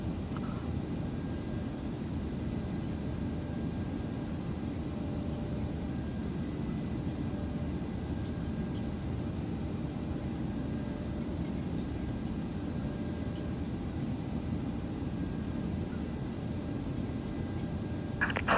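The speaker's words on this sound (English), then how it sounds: "So we can start engine 1." Engine 1 of a Jet2 Airbus A321 starting in Microsoft Flight Simulator 2024 gives a steady low turbine rumble and whine that holds constant throughout, loud and unbroken with no talk.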